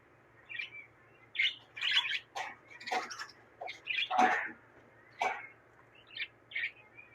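Caged birds at a bird shop in Bangladesh chirp and tweet in quick, scattered bursts over a low steady hum, close by and fairly clear, with no talking.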